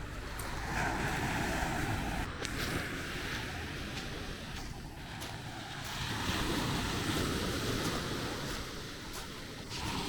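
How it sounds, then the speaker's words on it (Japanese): Sea waves wash steadily onto a beach in Dili, East Timor, a continuous broadband surf roar mixed with wind buffeting the microphone, loud and unbroken throughout. "海だ。"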